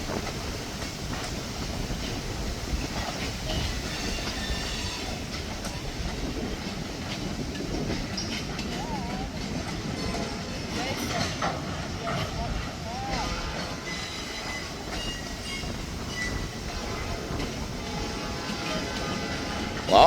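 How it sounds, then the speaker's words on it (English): Freight train carrying pulpwood rolls steadily past, a continuous dense rumble with clattering wheels and rattling cars, loud and close throughout with no break. "they even got pulpwood on this train coming from the south"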